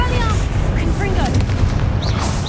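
Confringo spell blast in Hogwarts Legacy, a dense rumbling boom with crackling debris, loud and continuous throughout a short stretch of combat.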